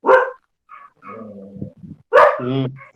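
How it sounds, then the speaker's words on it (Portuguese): Pet dogs bark close by indoors: a sharp bark at the start, softer whines and yips in between, then a louder bark with a drawn-out whimper near the end. "Aqui vai ouvir os latidos dos meus cachorros também, porque eles não saem daqui do meu pé."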